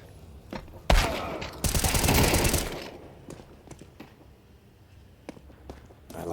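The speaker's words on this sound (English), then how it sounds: "Great shot from Jayba inside of the bomb site." Counter-Strike 2 gunfire in a pro match: a sharp shot, then a dense roaring burst of rapid automatic fire lasting about two seconds, followed by scattered quieter shots and taps.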